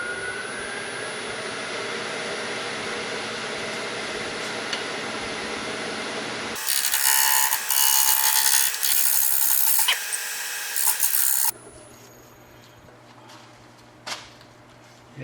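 A wood lathe spins a magnolia bowl blank with a steady motor hum, then a gouge bites in with a loud, harsh scraping rasp for several seconds before the cut stops and the lathe drones on alone.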